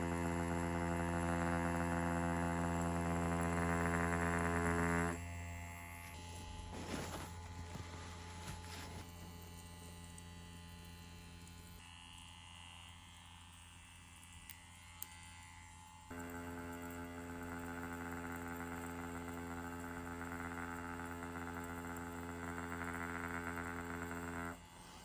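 A wireless tattoo pen machine runs steadily at a 4.2 millimeter stroke, giving a constant mechanical buzz with a fuller tone at the start and end and a thinner, quieter stretch in the middle.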